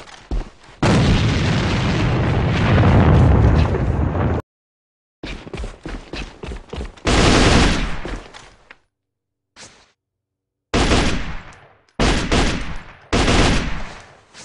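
Grenade blasts and gunfire from the video game AVA come in loud, close bursts: a long roaring blast, rapid shot volleys, then several more sharp explosions separated by short silences.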